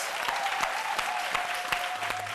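An audience claps in tribute to a musician, a continuous, fairly soft wash of many hands applauding without a break.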